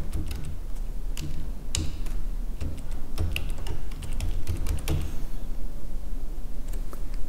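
Typing on a computer keyboard during a PowerPoint tutorial, a quick irregular run of crisp key clicks up close over a low steady hum, with no speech.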